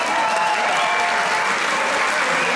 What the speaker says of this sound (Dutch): ik wil echt een daverend applaus voor deze twee gladiolen